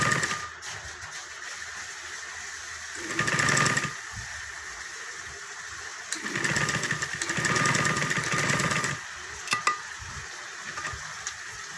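A sewing machine stitches a one-inch back neck strip, whirring in two close bursts, a short run followed by a longer one, over a quiet steady hum.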